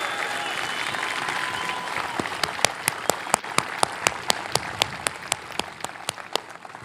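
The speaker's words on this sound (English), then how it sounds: "So, yeah, big round of applause," Crowd clapping at a talk on SpaceX's Starship program, a broad wash of applause with sharp, close individual claps standing out in an uneven rhythm across several seconds.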